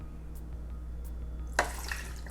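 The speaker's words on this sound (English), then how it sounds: "I'm just going to go ahead and add the water," Half a cup of water poured onto chopped peppers while making homemade sofrito, a brief splashing pour that starts partway through after soft kitchen taps, fairly close and alone.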